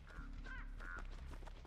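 A crow caws in the horror game Dead by Daylight, two or three short nasal calls over a steady low game ambience.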